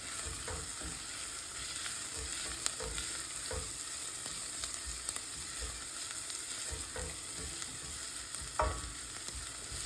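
Garlic sizzles steadily in a pan of cooking food for lasagna, a continuous crackling fry broken by occasional spoon stirs and scrapes, close and alone with no talk.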